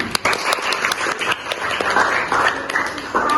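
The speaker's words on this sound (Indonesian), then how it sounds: "Oh, nah, tepuk tangan." Classroom audience applauding during a bank reconciliation lesson, a dense burst of clapping from many hands lasting a few seconds, fairly close and steady, with scattered louder individual claps.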